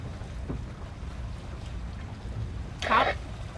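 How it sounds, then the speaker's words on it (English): Continuous wind rushes and rumbles outdoors on a sailboat, with a brief scraping or rustling burst near the end; no speech. "I can't hear anything out here. It's too windy."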